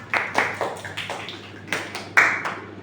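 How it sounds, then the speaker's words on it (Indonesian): A classroom of students claps for a classmate during a physical fitness lesson, a sparse handful of separate claps sounding close and fairly quiet, with irregular spacing between them. "Tepuk tangan buat Ocha itu."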